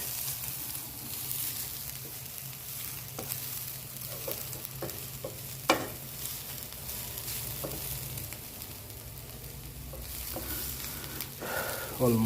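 Grated carrots frying in a pan for carrot halwa, stirred with a spoon: a soft continuous sizzle under low hum, with intermittent scrapes and knocks of the utensil, one louder clack midway, no talking.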